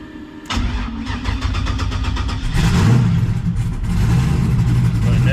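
An old Chevy engine cranks over and fires up, then settles into a steady, loud running rumble with a brief rev; a voice is faintly heard underneath.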